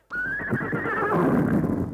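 A horse that has pulled up its tethering stake lets out a loud, close, drawn-out whinny lasting about two seconds, with no talk over it.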